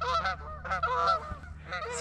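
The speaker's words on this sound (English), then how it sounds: "You guys hear those geese?" Geese honk repeatedly at moderate distance over open water near a kayak on a lake, a steady series of nasal calls with no talk over them.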